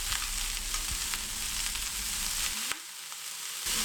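Steady, close sizzling of cauliflower sautéing in hot oil, with occasional scraping stirs and a brief dip in the crackle partway through.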